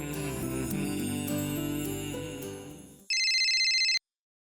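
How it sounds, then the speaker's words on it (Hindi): Telephone ringtone during a phone call: after about three seconds of music, a bright, steady electronic ring sounds alone and clearly for about a second before stopping. "मैं अभी रणवीर बाजा को फोन करता हूँ।"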